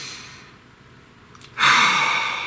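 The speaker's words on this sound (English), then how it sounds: "Please take a nice deep breath." A single deep breath: a slow, soft inhale through quiet room tone, then a louder breathy exhale that swells and gently trails off, close to the microphone.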